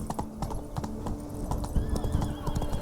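Roach, the horse in The Witcher 3: Wild Hunt's Blood and Wine expansion set in Toussaint, gallops with steady clip-clop hoofbeats close up, with a brief whinny over a busy game backdrop.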